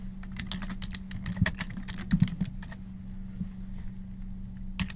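Keys clack steadily on a computer keyboard as a head trauma report for a 31-year-old male patient is entered, with irregular bursts of close, fairly quiet taps over a low steady hum.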